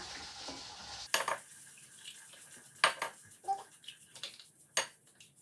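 Eggs being beaten with a whisk in a bowl for potato croquette coating, a quiet clatter of wire against the bowl in uneven bursts, with a few sharper clinks standing out, alone without talk.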